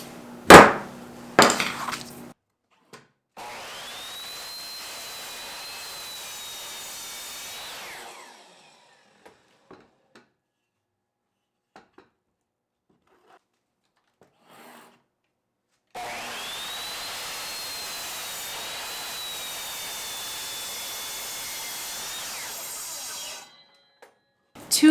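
A power saw cuts through scrap wood in two long passes, each a loud sustained whine with a drifting pitch that rises and fades, separated by quiet gaps and a few brief knocks.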